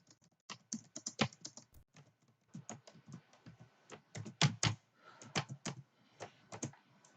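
Java code being typed on a computer keyboard: close, crisp key clicks in irregular bursts and short runs, with brief pauses between, and no voice over them.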